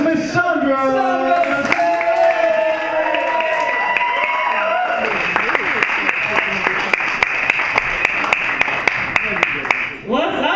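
A crowd claps and cheers as a performer is welcomed onstage at a VFW winners showcase, sustained applause over music-like tones that fade, with sharp individual claps standing out near the end.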